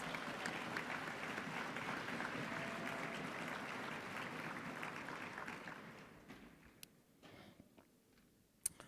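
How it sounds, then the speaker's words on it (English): Conference audience applauding at an opening session, steady dense clapping from a large crowd that fades out after about six seconds into scattered claps and room quiet. "So give yourselves a round of applause."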